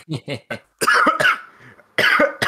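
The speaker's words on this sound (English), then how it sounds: "now you made me choke and cough on the drink" A man coughs after choking on a probiotic soda, several sharp close bursts, two short ones then a longer harsh fit with a rasping tail and another hack at the end.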